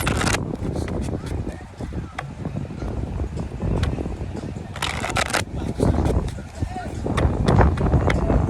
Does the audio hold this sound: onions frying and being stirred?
no